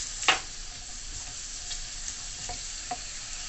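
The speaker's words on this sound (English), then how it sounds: "And you just saute it for about 5 minutes." Shrimp and ingredients for coconut curry sauteing in an oiled pan, a quiet steady sizzle with a few soft stirring scrapes and clinks, no talking.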